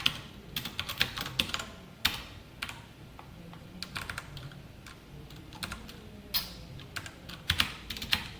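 Code being typed on a computer keyboard produces quick, irregular clusters of crisp key clicks, close and moderately quiet, with short pauses between bursts and no voices.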